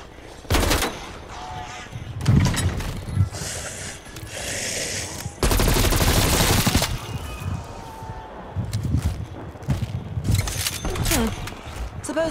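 Assault rifle fire in Call of Duty Cold War Zombies, heard as several loud bursts, one long sustained spray near the middle, mixed with game mechanism clatter and other effects.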